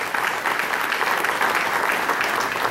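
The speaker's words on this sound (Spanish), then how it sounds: "Ciudadana Pastora García Jiménez, regidora séptima, démosle entusiastas aplausos." A crowd at a civic ceremony in Papantla applauds a council member, producing steady, dense clapping at moderate volume with no pauses.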